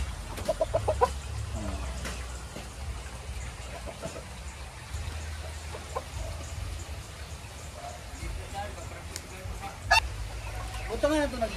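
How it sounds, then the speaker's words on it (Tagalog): White chickens in a flood-hit yard in Montalban, Rizal, after a typhoon cluck and squawk in short scattered bursts at moderate distance over a low background hum, with a few brief voices in the mix. "Ito yung mga manok, puti yung manok"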